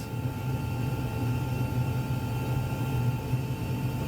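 Airliner engines run at takeoff thrust during a touch-and-go, a steady deep roar and rumble heard from inside with a constant tone above it and no voices.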